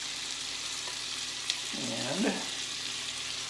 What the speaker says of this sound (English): The butter is already hot and sizzling, what you hear in the background there.